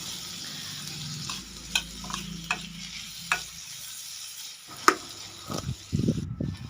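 Curry masala with cumin for an elephant foot yam kuzhambu sautés in a pan; a soft sizzle sits under repeated spoon scrapes and knocks, growing busier toward the end.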